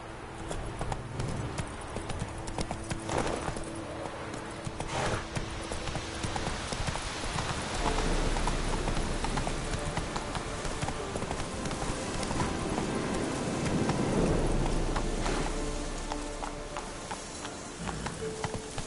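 Roach the horse galloping in The Witcher 3, a steady run of hoof clip-clops over a game soundscape, moderately loud and continuous without speech.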